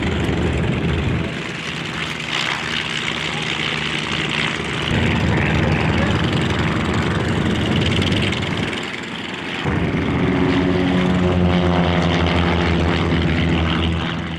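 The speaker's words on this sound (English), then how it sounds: "The first two of the full throttle formation team is on the takeoff roll." Propeller aircraft of a formation team rolling for takeoff at an airshow, a loud steady engine drone that swells and dips as planes pass, with a brief lull before the roar builds again, continuous and fairly close.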